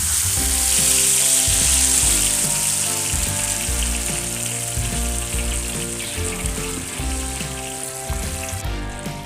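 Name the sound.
chili peppers frying in oil for sambal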